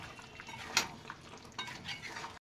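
Chicken being braised and stirred in a cooking pot gives faint scraping and a sharp clink of utensil against metal, with soft sizzling and light knocks, quiet and close, ending abruptly.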